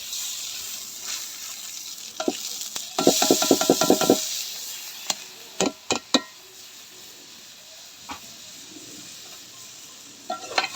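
Washed rice is stirred and fried with ginger and spices in a pot for pulao, a soft steady sizzle under a burst of rapid scraping strokes and scattered sharp knocks of the spoon against the pan.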